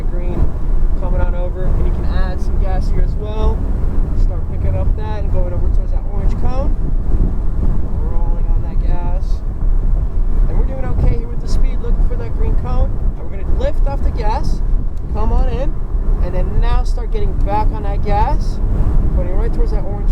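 A Porsche GT3 accelerates hard around a track, its engine rising and falling in pitch through gear changes, loud and close under heavy wind buffeting, while a driver talks throughout.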